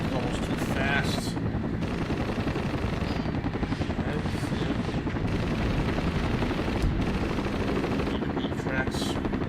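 Aircraft engine in the Air Missions flight game, a dense, continuous low roar and rapid pulsing drone that stays loud and steady throughout, with a voice talking over it.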